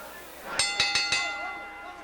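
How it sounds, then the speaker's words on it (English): A boxing ring bell starts round 3 of a pro boxing match with four quick metallic dings in a rapid cluster, ringing out over quiet arena background. "Bell for round 3, and we're underway now."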